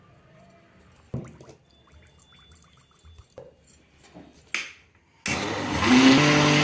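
A few handling clicks and knocks, then a blender grinding semolina with water whirs on loudly and runs steadily to the end, its motor pitch rising slightly.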